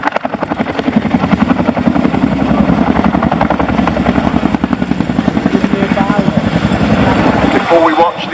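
A Boeing Chinook twin-rotor helicopter passes overhead at an RAF Cosford air show, its loud, steady rotor chop and engine roar holding close and continuous throughout, with brief voices faintly under the noise.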